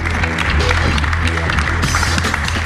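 Brief burst of audience applause and cheering at a live public show, dense and continuous under a loud mix with some overlapping voice.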